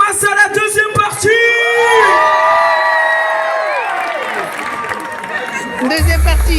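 An audience at a live Bollywood Masala dance show cheers, whoops and yells in a loud sustained roar, with shouted voices rising and falling above the crowd noise, and a sudden bass-heavy burst of music or noise at the end.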